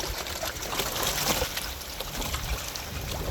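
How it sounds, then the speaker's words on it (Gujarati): Clean water flowing into a borewell recharge pit, a steady trickling and splashing wash that runs close and unbroken throughout, with no voices. "અહીંયા આ કુંડીની અંદર ચોખ્ખું પાણી આવે છે"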